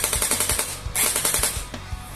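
Rapid full-auto burst from a Jinming M4A1 Gen 8 gel blaster, a fast even string of sharp clicking shots, close and fairly loud, with a brief pause midway before the rattling continues.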